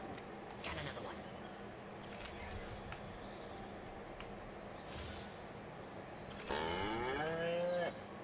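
Several cows moo in turn over a quiet background in the video game Destroy All Humans, with one louder, drawn-out moo near the end.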